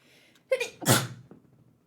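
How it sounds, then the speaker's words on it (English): A single sharp sneeze with a quick inhale before it, close and loud, followed by a brief breathy trail. "I'm gonna sneeze."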